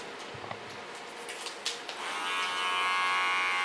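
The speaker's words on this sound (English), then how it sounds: "The underlines I do with a clipper." An electric hair clipper trims the hair on a wig, with a few soft snips and rustles at first, then the clipper's close, steady buzz starting partway through and running to the end.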